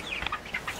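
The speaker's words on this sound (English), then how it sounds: "It's our rooster." A farm rooster gives a few brief, fairly faint clucks at a moderate distance over light background noise.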